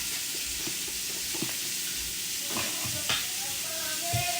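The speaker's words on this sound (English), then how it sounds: "And then you just mix everything together." Apple fritter batter of flour, baking powder, sugar, nutmeg, cinnamon and salt being stirred together in a bowl, giving soft scraping and stirring sounds with a few light knocks over a steady background hiss.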